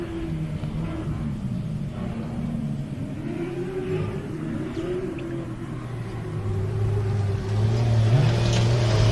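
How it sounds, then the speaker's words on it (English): Pro 4 off-road racing truck engine roaring around a short-course dirt track, a steady mid-distance drone that rises and grows louder toward the end, with faint bird cooing in the background. "I can hear that Pro 4 just screaming around the track"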